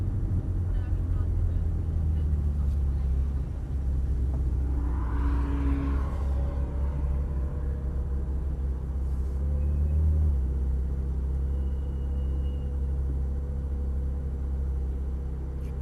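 A Ferrari F430 Spyder on a track, heard as a steady low engine rumble and road drone from inside the car, with a brief rising whine midway and someone talking over it.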